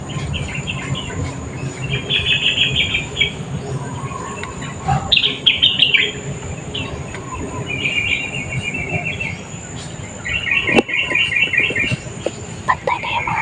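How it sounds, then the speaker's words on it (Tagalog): Birds chirping and calling outdoors in repeated short bursts of bright trills, with insect-like buzzing and a low rumbling background beneath, moderately close; a faint voice is present. "Grabe yung ano ng mga ibon."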